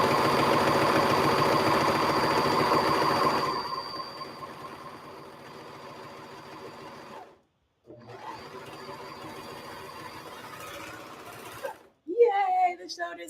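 A sewing machine stitches shoulder seams in a continuous run, stops briefly, then runs again with a steady mechanical whir, and a voice speaks near the end.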